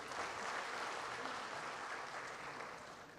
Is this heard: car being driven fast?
no